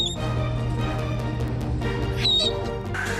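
A rescued sea otter pup squeaks in loud, high, shrill bursts over a steady background hum, the cries rising and falling across a few seconds.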